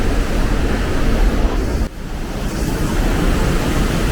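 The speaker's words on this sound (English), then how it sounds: "So there's water raining down from pretty much everywhere" Water pours down from snowfield-fed mountaintops in the Höllentalklamm gorge in the German Alps, a loud, unbroken roar and hiss of spray that briefly dips before surging back, with no voices.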